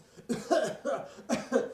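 A man coughs in a series of harsh, raspy bursts, three or four hacking coughs in quick succession, close and fairly loud.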